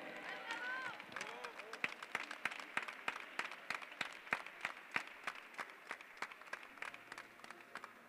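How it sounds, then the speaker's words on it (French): An audience at a French para-climbing championship in Tarbes applauds a bronze medallist, sharp scattered claps ringing out at a quick, uneven pace, with a voice heard briefly at the start. "Une ovation pour Max Bichet."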